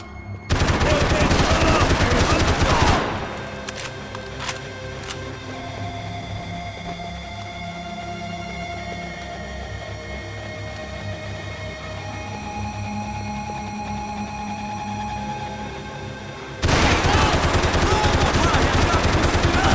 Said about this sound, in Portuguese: Não tenho nada a ver com isso! Continue atirando!